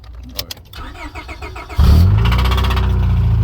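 An old Acura car turns over and fires up, a brief cranking chatter giving way to a sudden loud, steady engine roar that holds close up to the end.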